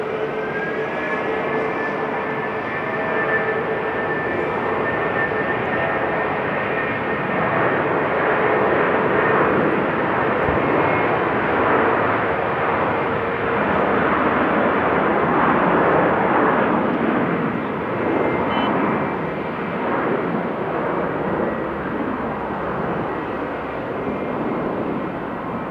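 Airliner at Sydney airport seen during plane spotting, a loud sustained jet engine roar that swells and holds steadily for about twenty-five seconds, with no clear talking.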